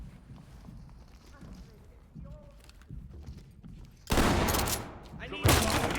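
A shotgun fires in the tactical shooter game Ready Or Not. Two loud blasts go off close together near the end, after quieter footsteps and in-game voices.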